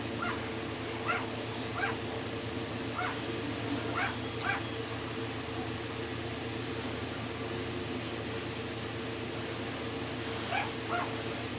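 A rat terrier mix barks in short yips, a few sharp bursts early on and a couple more near the end. The barks sound somewhat distant and sit over a steady electronic hum from video game audio.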